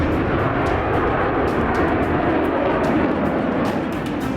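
A Rafale fighter jet flying during a French-Indian air drill, a loud continuous roaring engine rush filling the air, with no talking.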